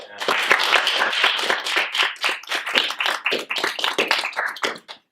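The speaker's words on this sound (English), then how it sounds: "Give him a warm round of applause." Clapping from a small audience welcoming a guest speaker at a cartoon talk event, close and distinct individual claps that thin out and fade toward the end.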